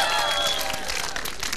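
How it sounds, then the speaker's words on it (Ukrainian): An outdoor karaoke show audience on a town square breaks into brief, dense applause lasting under two seconds as a contestant is introduced, with some tonal sound mixed in. "Оплески йому."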